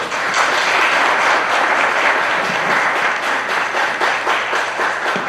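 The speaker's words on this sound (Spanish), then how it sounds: "Un gran aplauso aquí a Miguel" Strong, steady applause from a conference audience in Mexico after a talk on national identity, many hands clapping continuously at close range.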